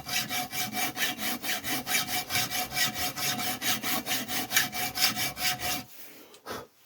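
Steel strut from a Ford Escort MK1 being sawn through in a coilover conversion, a steady back-and-forth rasp of roughly a dozen regular strokes, close and loud, ending in a few quieter scrapes and a pause.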